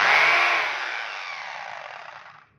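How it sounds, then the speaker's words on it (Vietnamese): A cordless battery hammer drill in hammer mode, running alone close by: a loud, buzzing whine that starts at full strength, eases slightly and holds steady before cutting off abruptly. "Khoan búa này nha."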